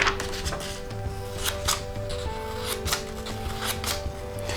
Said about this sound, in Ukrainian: Візьмемо листочок і спробуємо, як вони ріжуть.